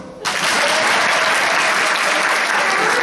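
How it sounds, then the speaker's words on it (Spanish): A sudden burst of loud, dense applause from a variety-show theatre audience, starting abruptly and holding steady without any voice over it. "¿Y el aplauso?"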